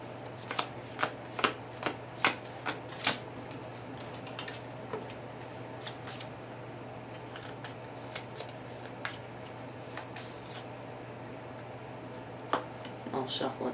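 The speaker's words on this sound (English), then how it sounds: "I'll shuffle it too, just to make sure it's like really shuffled." Playing cards riffled and shuffled during a Lord of the Rings card game session, a run of crisp flicks and snaps clustered early then scattered, fairly quiet, with a steady low hum underneath.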